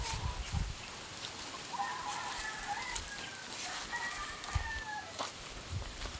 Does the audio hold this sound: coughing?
no